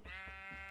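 A Minecraft sheep gives one clear, close bleat, a wavering nasal call that lasts well under a second with no voices over it.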